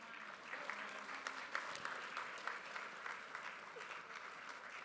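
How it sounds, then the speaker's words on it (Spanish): A crowd at a National Assembly presentation claps together in sustained applause. The dense patter of many hands is fairly faint and distant, with some voices mixed in. "También a esos vamos a darle un fuerte aplauso."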